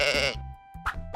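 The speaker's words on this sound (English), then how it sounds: "It's a sheep!" A sheep on a farm bleats loudly and close, one long wavering call followed by two shorter bleats after a brief pause.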